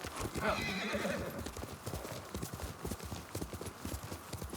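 Horse hooves clip-clopping in a video game, a quick steady rhythm of close hoofbeats, with a brief whinny near the start.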